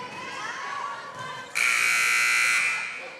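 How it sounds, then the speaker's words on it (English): An electronic buzzer sounds during a high school volleyball game, a steady loud tone that starts abruptly and holds for about a second before cutting off, over gym crowd noise. "I'm not sure why the buzzer went off right in the middle of the play."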